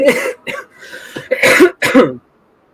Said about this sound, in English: I was coughing up stuff too